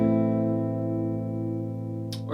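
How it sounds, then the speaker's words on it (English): Close, clean guitar chord rings out and sustains evenly, playing the rhythm of a song, before a brief scrape of fingers on strings at the end. "our rhythm will sound like this"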